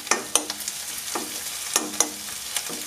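Crushed chili and onion fry in a pan for a long yard bean stir fry, with a soft ongoing sizzle broken by several sharp scrapes and clinks of stirring.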